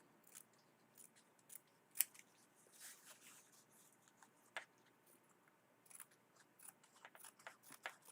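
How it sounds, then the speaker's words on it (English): Small scissors snipping extra fabric away from English paper pieced hexies, faint close clicks and crisp cuts in scattered bursts with soft handling noise and no voices. "I'm going to trim some of this extra away just for the sake of this video"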